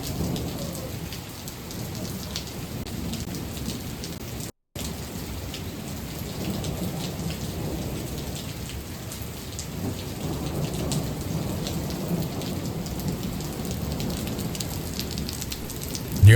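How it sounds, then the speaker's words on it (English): Heavy rain pours steadily in Phoenix, Arizona while thunder rumbles almost without pause, deep rolling booms layered under the constant hiss of downpour. "Nearly continuous thunder."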